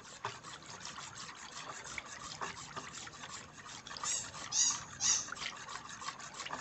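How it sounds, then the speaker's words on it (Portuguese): Homemade alcohol soap mixture is stirred in a washing tub, giving a continuous wet sloshing and swishing with a few squeaky scraping spots near the end. "Vou mexer aqui."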